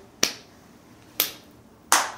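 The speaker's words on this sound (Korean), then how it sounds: "야, 3인데 왜 박수 쳐?" Three sharp, isolated hand claps sound in a counting game played by members of the K-pop group ATEEZ. They come close and crisp, roughly a second apart, with quiet between them.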